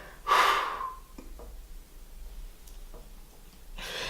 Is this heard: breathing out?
yes